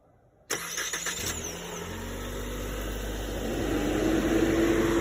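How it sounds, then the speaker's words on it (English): A 2018 Mitsubishi Eclipse Cross with a blue exterior fires up via an aftermarket remote starter: silence, a sharp crank catch, then a steady engine idle that swells slightly and holds, close and alone. "let's start her up, let her run."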